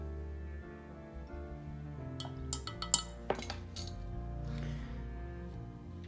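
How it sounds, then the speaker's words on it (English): Vanilla extract measured into a glass bottle with a half teaspoon, a few light clinks and taps of metal against glass in a close, quiet cluster midway over a low background hum. "We're going to add in 1/2 teaspoon of vanilla extract to our bottle."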